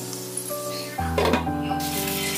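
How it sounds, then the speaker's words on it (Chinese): Dumplings pan-frying in a flat pan at breakfast, a steady oil sizzle that jumps louder partway through, with clinks of the pan over a soft music bed. "早上在平底锅里煎一下"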